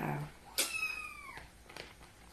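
A cat gives a single clear, drawn-out meow that rises and then slides downward, fairly close and quiet indoors. A fainter, brief sound follows after it, and no one speaks.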